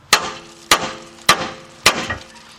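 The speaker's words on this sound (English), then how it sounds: "You're going to hit this so hard that the joint will actually just pop right out." Four sharp metallic hammer blows strike the steering spindle of a 2011 Jeep Patriot to pop out the lower ball joint, landing at an even pace, each ringing briefly before the next strike, close and loud.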